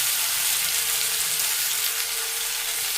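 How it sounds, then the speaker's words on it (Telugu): Onions and curry leaves fry in a pan, a loud, dense and continuous hissing sizzle heard close up with no talk. "ఉల్లిపాయలు దూరగా వేగాలి, మంచిగా దూరగా వేగాలన్నమాట. ఇందులో కొద్దిగా కరివేపాకు కూడా వేసుకుందాము."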